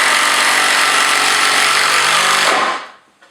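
Power tool driving a 60mm long, 6mm screw into a wooden gothic bench, a loud close whirring burst of about two and a half seconds that winds down and stops.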